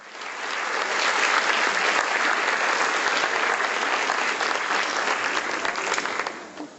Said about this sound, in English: Let's welcome Supreme Master Ching Hai with a round of applause.